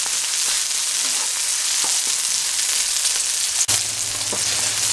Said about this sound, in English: Saute it like this.